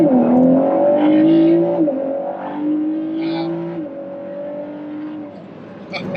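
A supercharged 2021 Ford F-150 pickup's big engine roars hard at launch, its pitch rising in steady steps as the revs climb, loud and close throughout.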